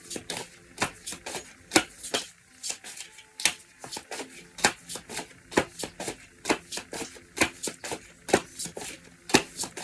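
Tarot cards being shuffled by hand: a quick run of crisp riffling snaps and soft slides, close up and fairly quiet, repeating at a brisk uneven rhythm with no talking.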